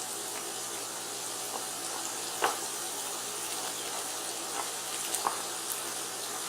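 Two tablespoons of butter melt in a pan beside bacon and ground beef for a cheeseburger macaroni, giving a soft, even sizzle with occasional faint pops and taps, fairly quiet and steady.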